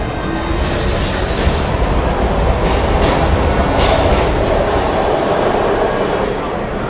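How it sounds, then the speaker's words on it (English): Train in the game Heavy Rain, a loud continuous rumble of rolling wheels and carriages with faint rhythmic clicks, steady and close throughout. "We've got to get on that train, Ethan."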